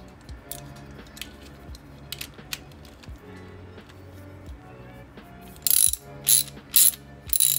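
A wrench ratchets rapidly while skateboard wheel nuts are tightened down, close and steady, with a few louder sharp clacks of the tool near the end.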